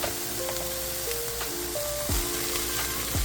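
Cut-up sausage sautéing in a pan for a crockpot lasagna gives a faint, steady sizzling hiss throughout, with a few thin tonal sounds layered over it.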